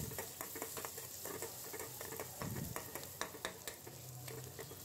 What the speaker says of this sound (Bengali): এই যে চিংড়ি মাছ ভালো করে ভাজা শেষ।